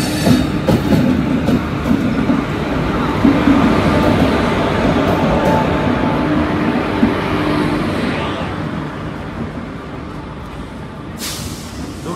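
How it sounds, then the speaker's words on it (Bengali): Howrah–Tiruchirappalli Superfast Express pulling into a platform at Howrah station, a loud continuous rumble of rolling wagons with steady clickety-clack from the rails, fairly close and without talk. "ঢুকে গেল আমাদের ট্রেন"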